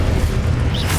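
A booming magical spell blast from the Hogwarts Legacy video game, a dense low rumble that fills the whole second with a brief brighter crackle near the end, loud and close with no talk.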